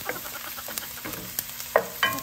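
Onions sauté in sun-dried tomato oil with a quiet, close sizzle and a handful of crisp utensil taps and scrapes in the pan.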